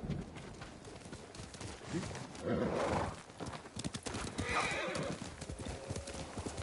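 Rhythmic hoofbeats clip-clop in a video game, with a horse neighing partway through, plus faint bird calls in the background.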